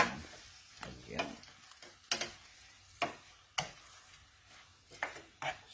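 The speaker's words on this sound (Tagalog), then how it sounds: "igigisa lang natin sa bawang, sibuyas at luya" Garlic, onion and ginger sautéing in a pan for coconut-milk shrimp, with soft sizzling and a handful of sharp scraping stir strokes spread out irregularly, close by and fairly quiet, with no talking.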